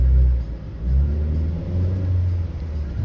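Mitsubishi Mirage engine with a warning light revving as the gas pedal is pressed, a low rumbling roar rising in two or three swells, close and fairly loud.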